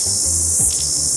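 A male cicada calls from a garden conservatory roof in late summer, giving a steady, continuous high-pitched buzz with faint low hum and rumble beneath it.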